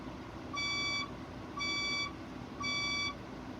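A building fire alarm sounds three evenly spaced electronic beeps, each about half a second long, over a steady background hum.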